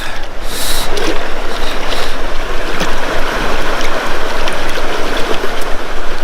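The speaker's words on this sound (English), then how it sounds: "Let's just pan out our targets and see what we have." Gravel and dirt swirled in a gold pan under water, giving a steady close-up churning, sloshing wash with light gritty rattling throughout and no voices.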